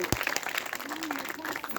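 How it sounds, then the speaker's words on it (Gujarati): Audience applause at a welcome ceremony during a Bhagavat Purana katha gathering, a short burst of clapping mixed with people talking and crowd noise. "વાહ, જોરદાર તાળીઓથી વધાવી દો."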